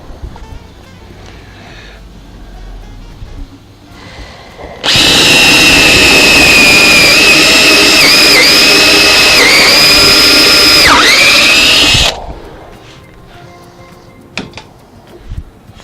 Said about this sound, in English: now I'm going to drill a new hole, right?